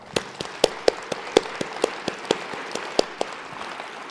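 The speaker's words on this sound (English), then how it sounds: "So please join me in giving our panelists another round" Applause for panelists at a science meeting, thin and fairly sparse, with distinct individual claps landing in an uneven rhythm against a soft background of more clapping.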